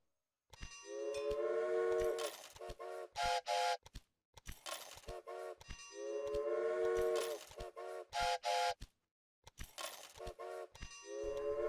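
Trains run in the railroad strategy game Railway Empire: tonal horn blasts, short whistle bursts and clattering wagons repeat in a looping pattern, moderately close and clear, with no talk.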